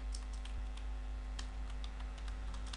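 Close, quiet typing on a computer keyboard: a steady run of light key clicks in an uneven rhythm over a constant low electrical hum.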